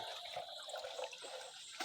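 A weak, thin stream of water runs steadily during a child's bath time, with a soft continuous trickle and light splashing close by and no talking.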